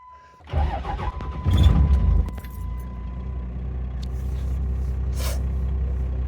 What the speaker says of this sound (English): this truck starting is gonna wake everyone up